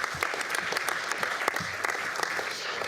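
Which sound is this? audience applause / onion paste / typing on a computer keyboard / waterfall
audience applause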